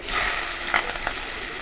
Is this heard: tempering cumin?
yes